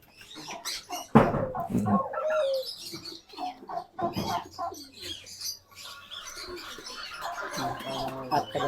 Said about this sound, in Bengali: ঘুঘু পাখিদের কি অবস্থা সেটা দেখতে হবে